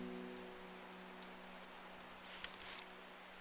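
Soft, steady rainfall in the Strange Horticulture plant shop game, a faint even hiss with a few scattered drip taps and a quiet low tonal hum underneath.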